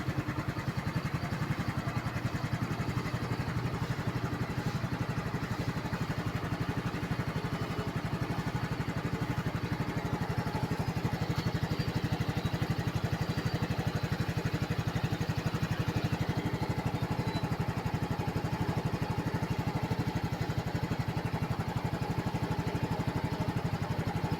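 A small Yamaha scooter engine idles steadily and continuously after being left out in the rain, a low even rumble with a faint mechanical clatter, close by and without talk.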